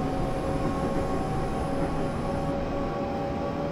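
A UK electric multiple-unit train in Train Simulator on the Faversham to Rochester route powers up at full throttle, a steady loud rumble with sustained motor whine tones and no speech.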